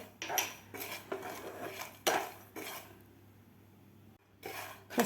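Poppy seeds being dry-roasted with dry fruits in a pan, a spoon scraping and clinking against the metal in a few separate strokes, close and fairly quiet with a pause midway.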